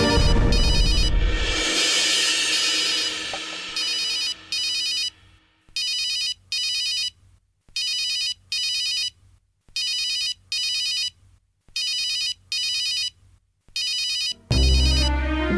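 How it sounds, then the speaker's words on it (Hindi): A phone ringtone rings repeatedly in paired electronic bursts with short gaps, steady and clear after some noisy rustling at the start. "बाबा का फोन आ रहा है।"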